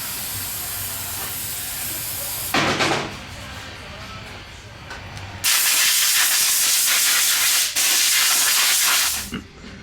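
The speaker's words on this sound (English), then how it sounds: "So I'm going to clean that off first before I start working on it." A pressure washer hisses loudly in two long bursts, cleaning dirt off a Honda XR650R motorcycle, with a quieter stretch of lower spray between them.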